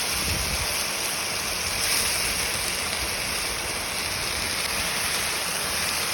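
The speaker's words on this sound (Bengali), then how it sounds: "তোমার আলুটা এবার ভেজে নেবো হালকা করে।" Potatoes frying lightly in hot oil in a home kitchen, a steady dense hiss and crackle that runs unbroken at an even level throughout, with no talking.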